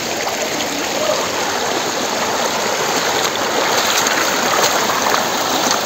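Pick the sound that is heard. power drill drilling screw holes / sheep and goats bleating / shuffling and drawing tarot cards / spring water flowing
spring water flowing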